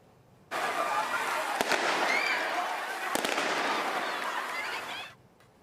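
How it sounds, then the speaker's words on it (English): Fireworks set off by groups of young people on Broadview Road on Canada Day give a sustained fizzing, crackling rush. Sharp bangs punctuate it before it cuts off after about five seconds. "some groups of young people set off fireworks on Broadview Road"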